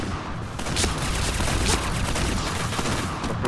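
Dense, continuous gunfire in the first-person shooter Point Blank, rapid overlapping shots and bursts that stay loud and unbroken throughout, with no voices over it.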